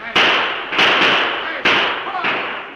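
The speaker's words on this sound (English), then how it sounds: "Covered by the gunfire of the pioneers" Several sharp gunshot-like cracks, about four loud bursts with short decaying tails, fired at irregular intervals close by.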